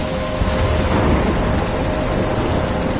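A steady heavy downpour with a broad constant roar of rain and a low rumbling undercurrent of thunder, loud and unbroken throughout, with no voices.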